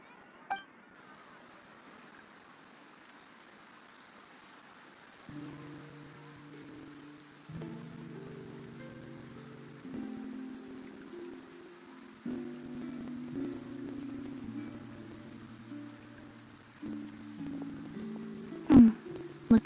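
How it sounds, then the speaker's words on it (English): Rain patters steadily over an outdoor scene in Fontaine in the video game Genshin Impact, a soft even hiss beneath gentle in-game music, with a sharper clink near the end. "Looks like rain."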